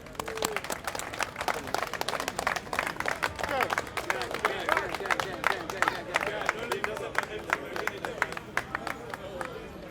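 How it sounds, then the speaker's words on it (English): Outdoor crowd at Speakers Corner clapping for a one-year group anniversary, sharp individual claps scattered and uneven rather than a full roar, with people talking and cheering over them throughout. "everybody clap for themselves"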